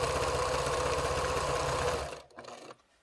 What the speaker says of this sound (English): now I'm gonna sew this